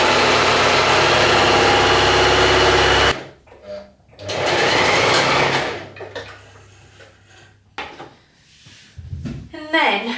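A sewing machine runs a long continuous burst stitching a seam with a 1 centimetre seam allowance, then stops; short knocks and brief bursts of mechanical whir follow, with a voice talking in the gaps.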